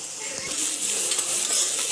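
Onions and curry leaves sizzle and fry steadily in a cooker pot for prawn biryani, a constant close hiss with light stirring scrapes running underneath.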